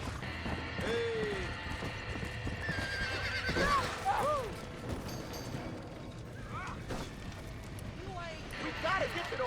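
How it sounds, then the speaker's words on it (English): Horses whinny repeatedly amid hooves clopping and commotion beside a burning barn in the video game Red Dead Redemption, with people talking over the noise. "We gotta get to the horse!"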